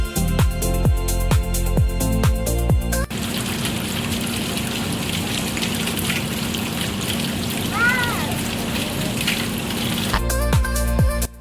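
Water splashes and gushes steadily in a children's mini water-play reservoir, with splashing in the middle and clattering, clinking play sounds at the start and end.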